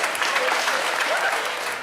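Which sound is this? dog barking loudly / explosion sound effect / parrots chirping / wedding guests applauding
wedding guests applauding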